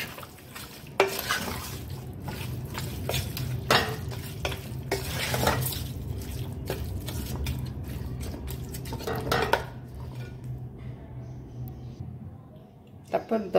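Raw beef being worked by hand with olive oil and spices in a bowl, wet squelching and slapping in irregular bursts with occasional clinks of utensils, fairly close and continuous, with a quiet hum underneath.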